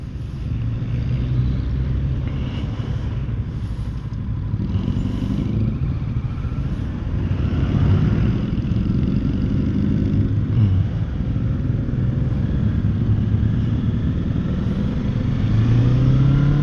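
A Kawasaki Z650 motorcycle rides through city traffic in Bacolod City, Philippines, with a steady, loud engine rumble and wind roar that rise and fall slightly as it moves.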